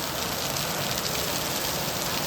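Heavy rain falling steadily outdoors, a dense continuous hiss of drops on surfaces, close and uniform throughout with no talk.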